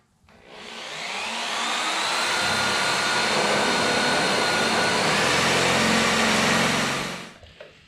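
A power drill whines loudly and steadily for several seconds while drilling pilot holes in metal on an MTD snowblower, spinning up at the start and winding down at the end, with no talking.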